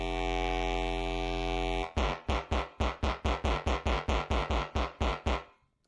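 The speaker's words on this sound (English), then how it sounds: "you can hear it adds a lot of room, it's a plate reverb" Audio run through a plate reverb: a sustained buzzy synth tone gives way to a quick, even series of about fourteen punchy stabs, each trailing a short, roomy reverb tail before everything fades out.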